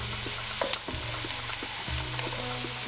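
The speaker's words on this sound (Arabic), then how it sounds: "وبضيف بصل كبيرة مقطع مكعبات صغيرة، وبزدهم معلقة من معجون الفلفل الحار، وبقلبهم شوي" Diced onions with a spoonful of hot chili paste fry in a large spoonful of ghee in a pot, with a steady close sizzle and intermittent scraping stirs throughout.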